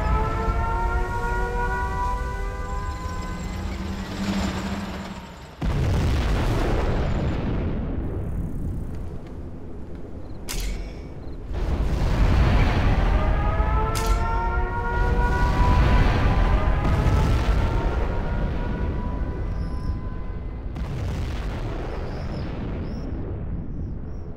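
A nuclear missile launch and detonation in the real-time strategy game Command & Conquer Generals Zero Hour, with wailing siren-like tones over a loud sustained rumble and several heavy blasts, close and continuous, with no talking.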